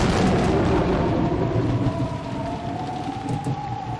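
Steady rain pours down in a dense hiss, with a low rumble of thunder rolling underneath, loudest at the start and easing slightly toward the end.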